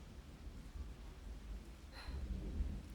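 Low rumbling thunder rolls under faint steady rain, with a brief brighter crackle midway, soft and distant overall, in a rainy night scene with searchlights in an audio drama.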